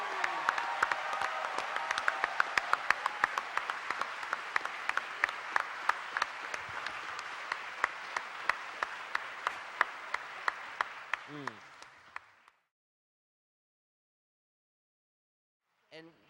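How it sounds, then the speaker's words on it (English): Audience applauding Tito Puente Jr. at an evening talk on culture and fatherhood, sustained crisp clapping that tapers off and stops, followed by silence and a short voice at the end. "Would you please give a wonderful round of applause for Tito Puente Jr."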